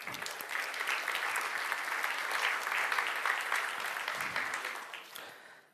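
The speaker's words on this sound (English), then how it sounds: "So a big round of applause for everybody in the room." Conference audience applauding at a game developer event, a steady, fairly soft roar of many clapping hands that holds evenly before tapering off at the close.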